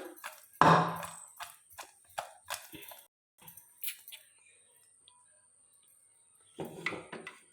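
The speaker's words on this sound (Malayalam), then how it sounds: "ഇനി നന്നായിട്ടൊന്ന് ഇളക്കി കൊടുക്കുക." A spoon works through a bowl of freshly picked raw mango pickle coated in oil, giving quiet, intermittent scraping and clinking bursts with pauses between them and no talk.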